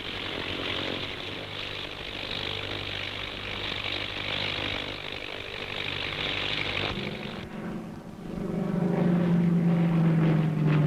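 Fleet Air Arm aircraft flying in during a wartime newsreel air battle: a steady, rough engine drone that swells louder and nearer toward the end, with no voices.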